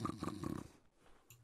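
Someone snoring in the horror game Ice Scream 2: a quick run of rhythmic, throaty snore bursts up close, then a quieter stretch with a faint noise near the end.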